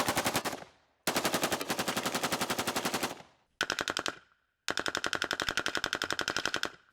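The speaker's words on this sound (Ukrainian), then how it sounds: "Скільки ж часу насправді може стріляти Калашников?" A Kalashnikov assault rifle fires on full auto in several long bursts of rapid, evenly spaced shots, loud and close, with brief silences between bursts.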